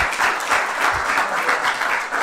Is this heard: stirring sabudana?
no